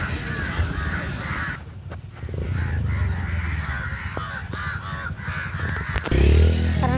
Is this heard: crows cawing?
yes